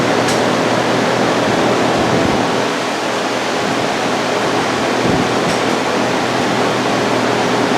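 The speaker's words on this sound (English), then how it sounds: "And we're going to heat weld over to that side." A hot air welder heat-welding the roof membrane of a 2012 Sports Coach RV, a loud unbroken blowing hiss that holds steady throughout, close by, with a couple of faint knocks and no talk.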